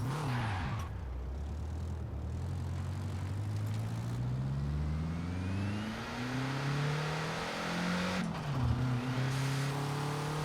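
A BMW car engine in the video game Forza Horizon 4 revs up and down through gear shifts, its pitch rising and dropping repeatedly, loud and continuous, with no voices.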